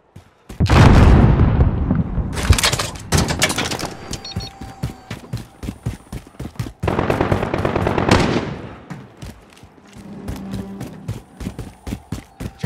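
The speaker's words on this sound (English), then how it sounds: "Sentry gun on station." A Call of Duty Modern Warfare sentry gun firing in rapid automatic bursts, loud clusters of shots separated by short pauses and trailing single rounds, with no talk over it.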